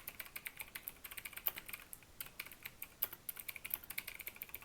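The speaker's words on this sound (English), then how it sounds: "So I'm just going to type the word overview here" Rapid, irregular keystrokes on a computer keyboard while a word is typed out, each click crisp and close with bright high-end ticks, a steady patter of taps with no voices over it.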